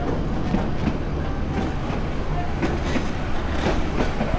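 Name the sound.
train running on rails during journey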